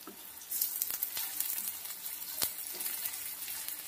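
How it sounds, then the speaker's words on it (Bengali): Onions stirred and frying in a kadai for beresta for katla kalia, a steady sizzle with occasional sharper clinks and scrapes of stirring, close and moderately loud, no voices. "পেঁয়াজটাকে নেড়ে চেড়ে হালকা লাল লাল করে ভেজে নেব"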